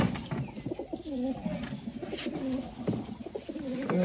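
Giribaz pigeons cooing nearby: a steady run of soft, low, throaty coos repeating in close succession, with no talk over them.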